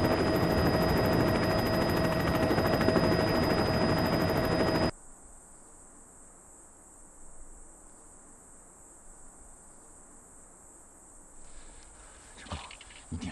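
A helicopter drones loudly with steady rotor noise during a tense scene in a Chinese special forces sniper drama, then cuts abruptly to a much quieter, hushed backdrop with faint rustles and a few soft sharp sounds.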